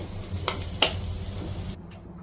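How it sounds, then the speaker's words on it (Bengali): Onion, green chilli and garlic frying in hot oil in a home kitchen, a soft steady sizzle with a couple of sharp clinks of a utensil against the pan, faint and close. "আমি ওখানে যে পেঁয়াজ কাঁচা লঙ্কা রসুন একটু ভেজে নেব লাল লাল করে"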